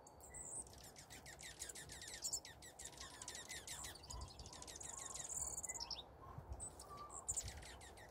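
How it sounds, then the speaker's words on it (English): Tree sparrows call at a backyard feeder, a busy chorus of quick, bright chirps and short trills from several birds close by, with no talking. "some tree sparrows in here."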